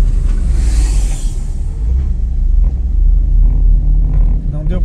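A municipal or sugar-mill dump truck rumbles past on a rural side road, its deep engine drone loud and close throughout while people talk over it.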